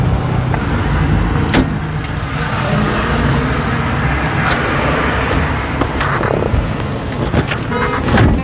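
A 1946 Austin 10 classic car is driven along a road, its engine a steady, close mid-pitched drone with a brief knock and slight rises in revs, heard alone.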